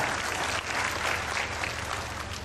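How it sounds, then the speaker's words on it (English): An audience claps at a leadership conference speech, a dense, steady wash of applause that stays loud and even for the whole stretch. "You can clap your hands."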